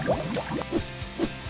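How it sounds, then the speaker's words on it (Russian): Cartoon car wash foaming a car body and rinsing the dirt away with water: a run of short, wet squishing and gushing bursts, close and moderately loud, with no talking. "Вспениваем твой кузов и смываем всю грязь водой."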